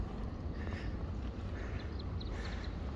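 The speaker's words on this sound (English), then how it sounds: "And a duck." A duck quacks near water outdoors, a few faint repeated calls buried in heavy steady wind and water noise.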